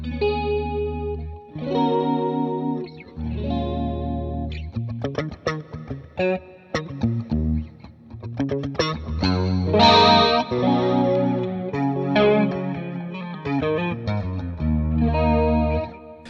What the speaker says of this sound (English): fairly unusual kind of flanging tones